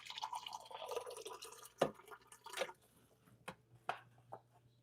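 A little water is poured into a pot in a home kitchen, a few scattered drips and splashes, soft and close, with brief gaps between them.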